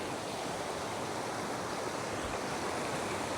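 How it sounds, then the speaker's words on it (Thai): Waterfalls and a river flowing beside lodging in Laos make a steady, broad rush of water, continuous and moderately loud with no voices. "มีน้ำตกอยู่ทั้งขาง"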